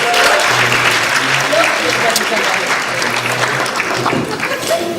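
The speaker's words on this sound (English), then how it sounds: "a round of applause for Mr. John Walsman" A banquet-hall audience at a 58th anniversary dinner breaks into sustained, dense applause that stays loud and even from start to finish, with a voice faintly audible beneath it.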